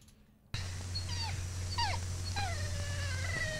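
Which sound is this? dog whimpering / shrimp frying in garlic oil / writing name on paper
dog whimpering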